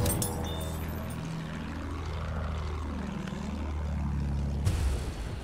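A bomber aircraft's propeller engines drone loud and steady in Battlefield 1, with a sweeping swell in pitch as the plane passes overhead, then an abrupt cut near the end.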